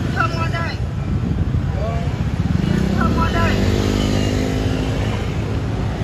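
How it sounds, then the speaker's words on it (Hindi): A stream of motorbikes rides past on a busy night street in a Vietnamese city, engines droning and revving close by, with a horn-like tone and voices mixed into the traffic. "देखो फिर बाइक का रैली छूट गई"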